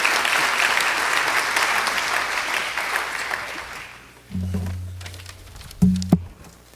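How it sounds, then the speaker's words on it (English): An audience at a conference closing session applauds the session speakers. Dense, steady applause fills the room for about four seconds and then fades, and a few scattered claps and faint low sounds trail off at the end. "A round of applause for our speakers"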